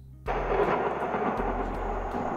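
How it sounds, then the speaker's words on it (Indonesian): Thunder rumbles through a horror ambience sound effect edited in KineMaster, a sudden loud crack followed by a long deep roll, with a second swell of rumbling and faint crackles over a dark background. "Nah, sudah ada ambien ya, suasana-suasana horornya itu udah dapat gitu. Kayak ada petir-petirnya gitu ya kan."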